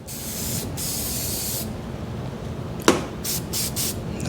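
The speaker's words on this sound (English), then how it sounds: "I'm gonna use this battery terminal protection spray." Battery terminal protection spray hisses from an aerosol can while coating corroded battery wires on a Club Car DS golf cart, in long steady bursts followed by a sharp click and several short, close sprays.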